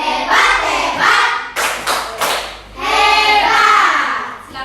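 A class of children claps a rhythmic chant-and-clap cheer, loud close claps in short patterned bursts between stretches of sung chanting voices.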